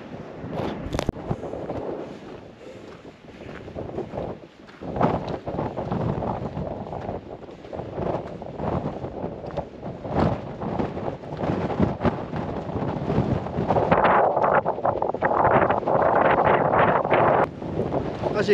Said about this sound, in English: As you can tell, it's pretty windy up here.